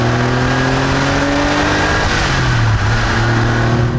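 A Porsche 964 RS Touring's engine climbs steadily through the revs, loud and close from inside the car, a continuous rising mechanical roar with a slight dip near the end, no talking.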